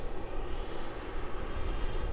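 A Qantas Boeing 737 arriving on runway 34 at Melbourne Airport, heard as a steady broad jet engine roar, fairly distant and even throughout.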